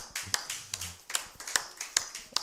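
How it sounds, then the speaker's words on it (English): A few people clap at a live business seminar, sparse and faint, with separate sharp claps spaced out at an uneven rhythm and no talking. "A round of applause for yourself."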